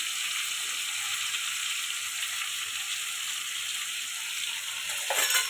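Steady broadband sizzle of shrimp and cabbage frying in a kadai with turmeric and salt, continuous and close, with a brief scrape of stirring near the end and no voices.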